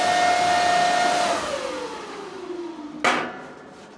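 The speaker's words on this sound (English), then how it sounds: "let me turn this miner off" Fans of a Bitcoin mining machine in a high-voltage 100 kW mining barn whine loudly and steadily, then spin down with a falling tone after the unit is switched off, ending with a sharp click-like burst near the end.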